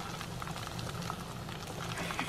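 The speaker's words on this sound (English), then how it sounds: "It sounds like it's frying. Listen to the sizzle." Foil-wrapped potatoes sizzle and crackle steadily on hot campfire coals, a dense popping hiss with light bubbling, close and moderately quiet.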